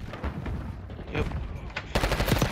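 Automatic gunfire from the video game Black Ops 6, a dense rattling of shots that grows louder and sharper near the end, with game sounds and some voices mixed underneath.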